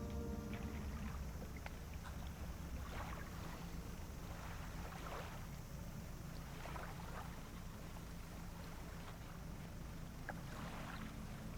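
Slow fishing boat engine in the video game Dredge, running on a single engine: a steady low hum and water wash droning continuously, with faint lapping and creaks over the top, no talking.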